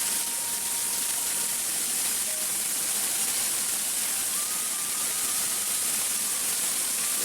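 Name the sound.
waterfall on a mountain trek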